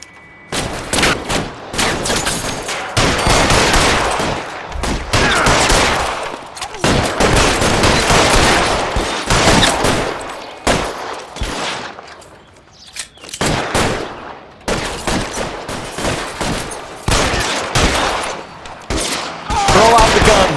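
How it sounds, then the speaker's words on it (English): Gunshots in L.A. Noire fired in a shootout, loud repeated volleys and rapid bursts that come in waves with brief pauses, with scattered speech mixed in. "Fire a warning round."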